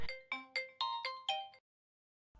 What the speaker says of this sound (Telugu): ఎవరో ఎవరో కాల్ చేస్తున్నారు.